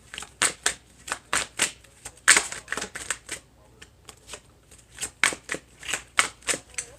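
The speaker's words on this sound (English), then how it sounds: "I'm going to shuffle these up and we're going to get you some bottom cards for Pisces." Tarot cards being shuffled by hand, a run of crisp riffling bursts and soft slaps in uneven rhythm, close and clear with a short pause in the middle, no talking.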